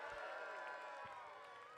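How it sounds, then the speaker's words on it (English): A crowd cheers and whoops at the Colchester Soapbox Rally on North Hill, a steady, dense roar of many voices that holds for the whole stretch and fades a little toward the end. "Can I hear a massive cheer for all the team behind the soapbox this year?"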